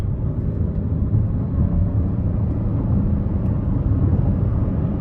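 A 2024 Buick Encore GX with a 1.3-liter three-cylinder engine and CVT accelerates, a steady low engine rumble blended with road noise heard from inside the cabin, with no talking.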